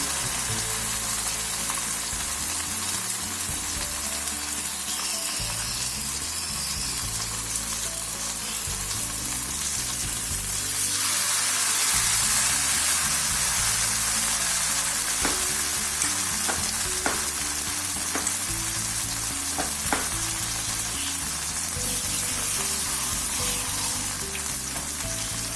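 Raw banana pieces coated in masala frying on a medium flame, a dense continuous sizzle and crackle that swells partway through, with a few sharp pops and no voices.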